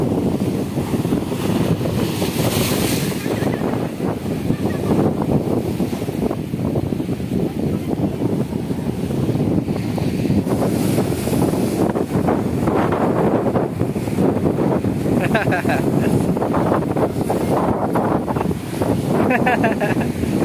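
Loud ocean surf rolling in on Harihareshwar beach, buffeted by heavy wind noise on the microphone, with voices shouting faintly over the waves.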